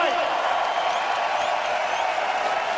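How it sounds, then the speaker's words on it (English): An arena crowd at UFC 218 applauds and cheers for Eddie Alvarez and his opponent after the fight, a steady wash of clapping and shouts from many people, with speech faintly over it. "how about a round of applause for both of these fighters?"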